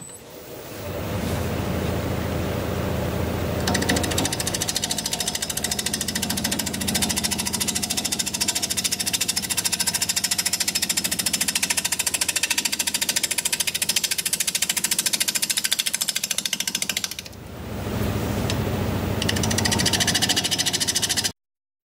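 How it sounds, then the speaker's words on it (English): Wood lathe spinning a burl bowl blank at a little over 800 RPM while a 5/8 inch bowl gouge cuts, a loud, steady broadband roar and hiss with a short dip near the end, no talking. "We'll be turning at a little over 800 RPM, 5/8 inch bowl gouge"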